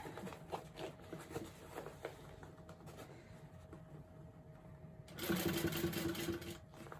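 Sewing machine top-stitching along a bag edge, quiet intermittent stitching and handling at first, then a steady, louder run of stitching for the last couple of seconds.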